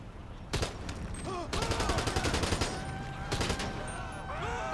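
Military rifle fire in GTA Online, loud close bursts of rapid automatic shots in several volleys, with game effects around them.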